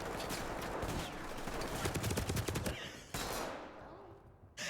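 Rapid bursts of blind-fired gunfire in a multiplayer shooter on hard difficulty, dense and loud for about three seconds, then a brief pause and one last sharp shot near the end.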